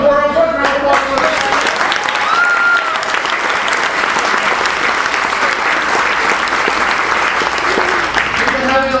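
A theater audience applauds at an improv comedy show, with loud sustained clapping and a few cheers right after a voice speaks at the start, and the clapping continues evenly to the end.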